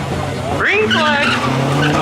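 Street-legal cars launching side by side at a spectator drag race in Oxford, engines revving and tires squealing as they pull away, under a commentator's voice.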